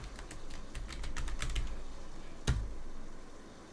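Fingers tap out a quick, uneven run of clicks on a Logitech G913 TKL low-profile keyboard, close and fairly soft, with one louder, sharper keystroke near the end.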